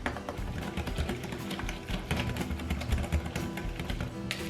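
Pancake batter for savoury ham and cheese pancakes being stirred together in a bowl, a steady run of close scraping, tapping and sloshing strokes with no talking.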